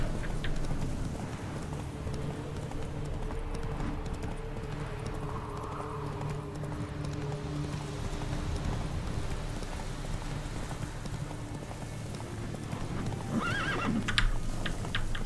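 A horse being ridden in The Witcher 3 makes steady rhythmic hoofbeats over open countryside, with a brief neigh near the end, against a constant low background of game sound.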